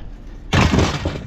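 Glass from outdoor furniture clatters and breaks, a sudden loud crash followed by a second of rattling shards, close by.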